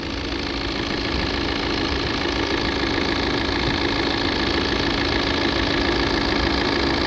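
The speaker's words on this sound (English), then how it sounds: "Going to do this with the engine running." A Volvo V40 engine idles steadily with a constant mid-pitched hum and light knocking vibration, moderately loud and close, with no voices.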